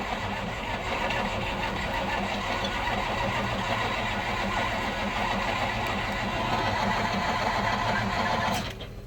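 A tractor's diesel engine cranks and chugs continuously in a cold start attempt, having lost fuel prime, in a fast, rough rhythm for several seconds, close by, then drops away at the end without catching.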